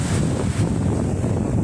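Sea waves wash against a small boat out on open water, with heavy wind buffeting the microphone in a loud, continuous roar.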